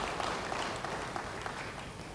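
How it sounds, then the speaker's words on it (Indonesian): A church congregation breaks into applause during a sermon, a dense, even wash of clapping that holds steady throughout. "Beri tepuk tangan bagi dia."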